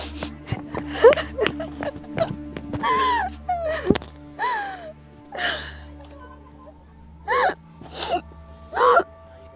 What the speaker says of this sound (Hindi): तू इतनी हाँफ क्यों रही है और रो क्यों रही है?